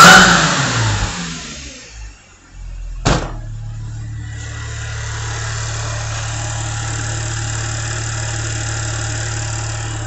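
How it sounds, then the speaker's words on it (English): An Audi B8 S4 with a supercharged engine and a longer 1320 mm supercharger belt revs briefly, drops back, gives one short sharp blip, and then settles into a steady loud idle. "I'm gonna give it some revs."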